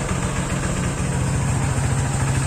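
A Honda PCX 150 scooter fitted with a cheap aftermarket air filter idles steadily up close, giving a low, even, pulsing engine putter with no voices.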